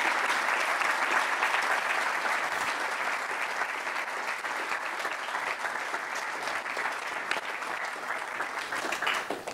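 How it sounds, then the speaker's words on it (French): A large audience at a French talk on the future of artificial intelligence applauds its two speakers, producing sustained, dense clapping that holds steady and loud without letting up. "Je vous demande d'applaudir très fort nos deux intervenants."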